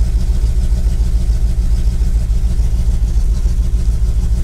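A Dodge Dakota R/T with a suspected failing crank position sensor idles loudly up close, a steady low rumbling engine throb with an even pulse and no speech over it.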